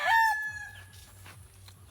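Rhode Island chickens: a rooster crows loudly once near the start, followed by softer clucking and low repeated farmyard sounds.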